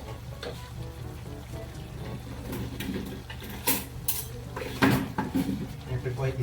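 Ginataang pakbet vegetables boiling in a cooking pot as a utensil stirs them, with metallic scrapes and clinks against the pot, bubbling underneath, and sharper knocks near the end.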